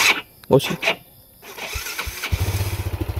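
Yamaha Jupiter Z1 motorcycle engine cranking and catching, settling into a pulsing idle close by after a few clicks and rustles at the start.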